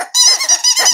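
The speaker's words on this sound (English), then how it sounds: "We're going to give you double squeaky this morning" A squeaky toy sound effect plays twice in quick succession, loud, high-pitched and rubbery squeaks with a short gap between them, standing alone with no talk.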